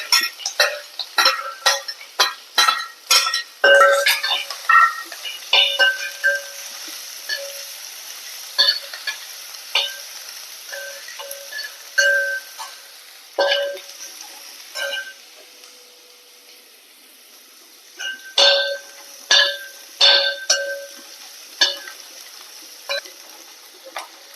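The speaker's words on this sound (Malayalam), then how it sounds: "വെളുത്തുള്ളി ഇഞ്ചി ഇട്ട് കൊടുക്കുക." Garlic and ginger stirred and frying in a pan for kadachakka thoran, a steady soft sizzle broken by repeated sharp clicks and scrapes of a spoon against the pan, with no talking.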